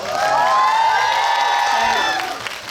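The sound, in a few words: audience applause and cheering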